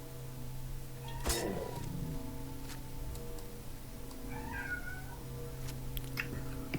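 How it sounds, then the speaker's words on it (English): A cat meowing indoors, one short cry followed later by a softer, higher meow, faint against a low steady hum with a few clicks. "just bear with the cat"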